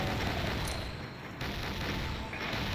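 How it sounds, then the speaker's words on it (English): In a Pirate Doom mod, a cannon fires using the Skulltag minigun sound, a dense, loud, continuous roar of rapid gunfire that barely lets up. "they're using the Skulltag minigun sound for the cannon"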